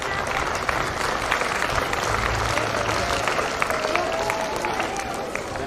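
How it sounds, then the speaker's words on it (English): Audience applause at a kindergarten graduation day ceremony in a school hall: a steady, dense patter of many hands clapping for several seconds, with scattered crowd murmur underneath. "I request our dear audience to give them a big round of"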